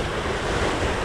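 A Hallberg-Rassy 54 sailing yacht on a lively beam reach at sea in 15–17 knots of wind: a steady, loud wash of waves and surf with constant wind rush buffeting across the microphone throughout.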